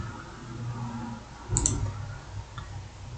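A single crisp mouse click lands near the middle, a brief sharp tick over low room hum while saving a field setting in the Odoo sales app's settings, with no speech around it.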